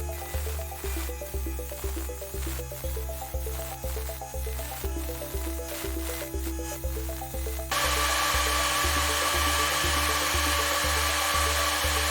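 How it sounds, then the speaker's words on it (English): A blacksmith's grinder works metal on a forged crab-shaped incense holder: a steady rhythmic machine thumping, then a sudden loud, continuous abrasive grinding roar that fills the last few seconds. "we can get the rest of that on the grinder"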